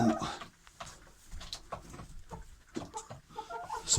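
A Sarama-mix rooster clucks in a backyard henhouse, giving a string of short irregular clucks at close range while other chickens and birds call around it.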